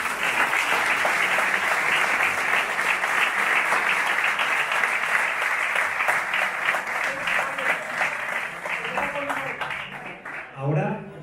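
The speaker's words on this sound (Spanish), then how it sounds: "Para todos ellos, nuestro agradecimiento eterno y un fuerte aplauso." A gala crowd marks a club's 1923–2023 centenary with sustained, dense applause of many hands clapping, holding steady before thinning out and fading near the end.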